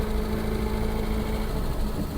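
A Reliant Regal car engine runs steadily up close, a continuous loud rumbling drone with no pauses and no one talking.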